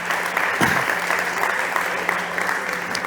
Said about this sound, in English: Okay, big applause for David.